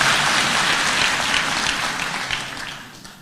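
A church congregation at a thanksgiving service in Nairobi claps, with dense, steady applause filling the room throughout and slowly tapering toward the end.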